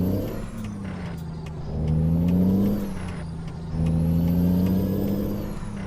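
A loaded truck in a manual-transmission truck driving game, its engine droning low and rising twice in long revving pulls with gear changes between, steady and close with no talk.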